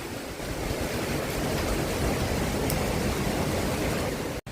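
Heavy monsoon rain pours down steadily in a dense, unbroken hiss near a home by a park, with no voices, cutting off abruptly just before the end.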